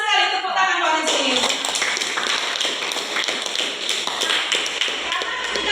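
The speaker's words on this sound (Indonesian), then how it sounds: "tepuk tangan Pak Rizky." Classroom clapping for a student, a dense patter of many hands from about one second on, steady and fairly close, with voices mixed in throughout.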